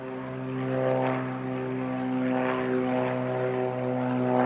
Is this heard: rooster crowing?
no